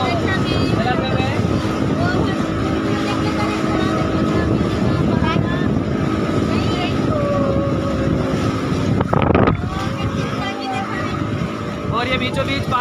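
A motorboat engine drones steadily on Ana Sagar lake in Ajmer, a continuous close hum with wind buffeting, while people talk over it throughout.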